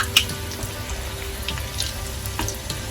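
Pakoras frying in hot oil for Indian kadhi give off a continuous close bubbling sizzle with scattered light pops and crackles, and no talk over it.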